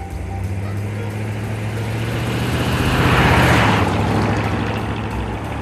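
A 1955 Ford Thunderbird V8 engine runs with a deep, steady rumble that swells as the car passes close by, then fades slightly, heard alone without talk.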